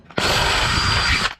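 A power drill whirs loudly at close range, drilling a hole in a Nissan 350Z engine bay, in one continuous, steady burst lasting about a second before stopping abruptly.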